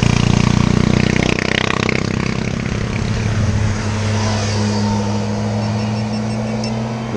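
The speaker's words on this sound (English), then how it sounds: "Noisy bikes." Loud, steady motorcycle engine noise with a deep low drone and no talk, along a road in Wales near a BMW R1200GS adventure bike; the bikes roar past and stay close throughout.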